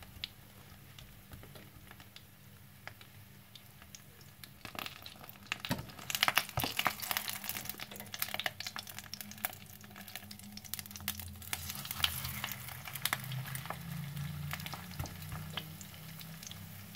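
Fish fritters frying in a pan at moderate heat, a faint, soft sizzle with scattered crackles and pops that grow busier partway through.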